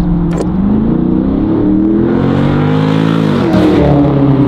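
A 2023 Dodge Challenger R/T Scat Pack Widebody pulls away with a loud, deep V8 rumble that rises as it accelerates, then briefly drops on a gear change, heard close and alone.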